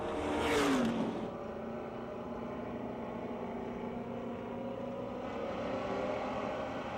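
Race cars at Pennsylvania Motor Speedway in Pittsburgh roar off at the start of a heat race, with one car passing close and loud before a sustained, more distant engine drone from the pack.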